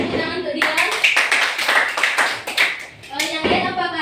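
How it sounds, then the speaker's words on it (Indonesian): A classroom of students claps for a classmate who answered a question correctly, a burst of scattered hand claps running under the teacher's talk, fading out near the end before her voice resumes. "beri tepuk tangan untuk dia"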